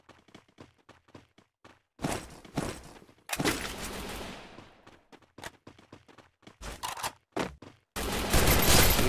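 Gunfire in a shooting video game, sharp bursts and rapid volleys that come in bunches with short silent gaps, loud and close, growing heavier toward the end.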